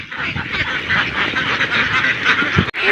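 A flock of free-range farm ducks in the Philippines quacking, a dense, loud, continuous chorus of overlapping calls close by.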